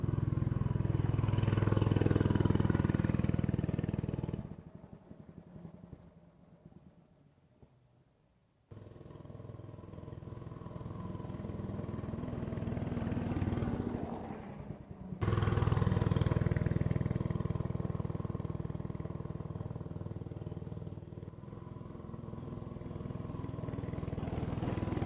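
A homemade pit bike engine runs on a hand throttle, a loud, close buzzing drone that drops back for a few seconds mid-clip, then climbs and holds at a higher, rougher pitch.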